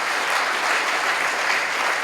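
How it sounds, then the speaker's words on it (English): Steady, loud conference audience applause at the AWE USA 2021 augmented reality event's opening speech, dense clapping sustained evenly throughout with no voices over it. "Give yourself a big round of applause."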